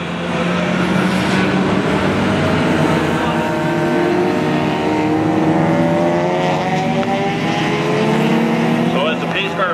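Closed-wheel race cars circulate behind the pace car at Mission Raceway, a loud continuous engine drone with slowly shifting pitch as the pack passes, under a commentator's talk.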